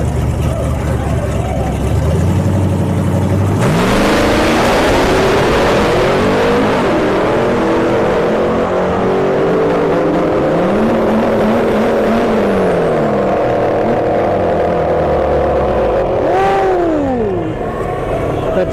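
Drag racing cars at Bradenton Motorsports Park, including a Tracky, a Styrian Conquest and a B Series Turbo Civic hatch, roar loudly as engines rev and climb through gears, a sharp launch giving way to sustained rising engine tones with a commentator talking over them.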